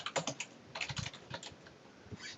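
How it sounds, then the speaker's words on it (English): Rapid keystrokes on a computer keyboard as a search phrase is typed in quotes, sounding as irregular close clicks in short bursts with brief pauses between them and no voices. "pop in a quote, and you want to type in your product"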